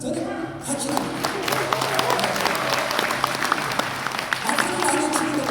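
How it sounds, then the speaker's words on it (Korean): An audience applauds at a hemp company presentation by Denda Korea, a dense, steady wash of many hands clapping that fills the room without a break. "박수를 많이 치는 거 보고"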